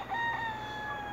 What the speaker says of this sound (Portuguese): até o galo estão cantando